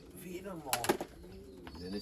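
Young racing pigeons coo softly in a club loft, low rolling calls repeating close by, with a burst of wing flutter or scuffling in the middle and a person talking nearby.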